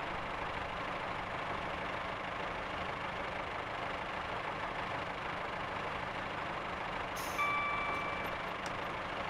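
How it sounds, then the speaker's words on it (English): A Class 143 Pacer diesel train in Train Simulator 2020 rumbles steadily while a short hiss of its air brakes releases near the end, with a faint beep tone. "Okay, step one on the brakes."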